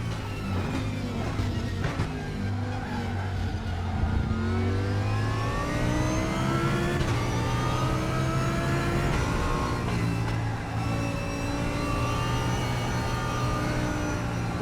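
A race car engine in the RaceRoom Racing Experience sim, Super GT class at Sepang, revs hard and climbs through the gears with rising, sweeping tones, loud and continuous throughout with no talk.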